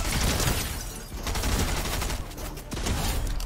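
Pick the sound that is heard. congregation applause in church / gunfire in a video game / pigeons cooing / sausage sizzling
gunfire in a video game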